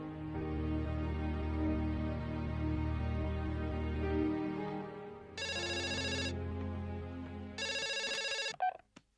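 A telephone ringtone trills in two bursts over a low background tone, the second burst followed by a couple of short clicks.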